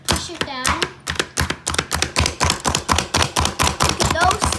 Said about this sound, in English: And it just chops them into smaller pieces. It is pretty loud.